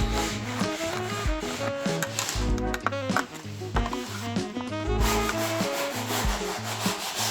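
A new dipstick is pushed into the tube of a Toyota 86 engine during a rebuild, making repeated close scraping and squeaky rubbing strokes in an uneven rhythm, loud and alone without speech.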